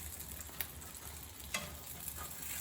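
Chicken pieces fry in hot oil for chicken francaise, giving a faint, steady sizzling hiss with a couple of soft crackles and pops.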